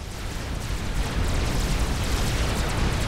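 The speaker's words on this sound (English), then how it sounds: "Emperor's lending his long-range artillery support." Long-range artillery explodes in a large strategy game battle: a dense, continuous roar of overlapping booms and rumbling blasts, loud and sustained, with no voices.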